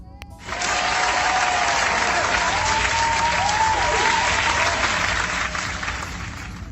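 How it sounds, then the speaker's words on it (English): Sustained applause from a crowd saluting Albert Pujols, baseball first-ballot Hall of Famer, steady dense clapping and cheering running the whole stretch before easing slightly at the end. "So round of applause to Albert Pujols."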